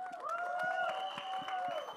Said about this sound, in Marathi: स्वातीसाठी एकदा जोरदार टाळ्या